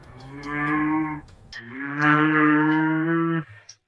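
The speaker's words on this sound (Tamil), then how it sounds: "வெளியூரிலிருந்து வாங்கி வந்த பல மாடுகள் அங்கே கட்டப்பட்டு இருந்தன" Two long, deep moos from a cow, close and loud, the second slightly longer, with no talking.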